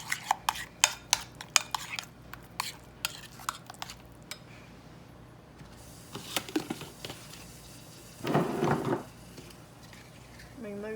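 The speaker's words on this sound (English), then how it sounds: "mix it real good now that you got your eggs creamed good and all those little lumps out pretty good" A spoon works through deviled egg yolk filling for bacon deviled eggs in a bowl with rapid, repeated scraping clicks, then a pause and a brief burst of rustling handling noise, quiet and close with occasional talk.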